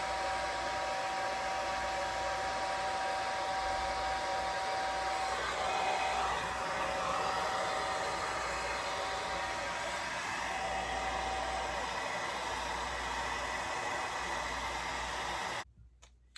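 Hair dryer with a diffuser attachment drying curly hair, a loud steady whooshing blow running continuously before cutting off abruptly near the end.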